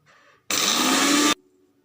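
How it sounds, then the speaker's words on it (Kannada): A mixer grinder jar whirs in a single short burst of about a second, coarsely grinding sesame seeds for Sirsi-style hunsehuli tambuli; loud and close, starting and stopping abruptly between quiet stretches. "ಈ ಎಳ್ಳನ್ನು ಕಡಿ ಆಗಿ ಮಿಕ್ಸರ್ ಜಾರ್ನಲ್ಲಿ ಒಂದು ಹುಂಡು ಬೀಸ್ಕೊಬೇಕು"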